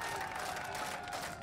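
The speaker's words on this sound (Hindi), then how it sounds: "राकेश जी, बहुत सारे लोगों ने आपके लिए तालियां बजाई हैं।" A crowd claps at an outdoor election carnival debate in Narnaul, Haryana, greeting a party spokesperson: a brief, faint, steady burst of massed clapping, somewhat distant.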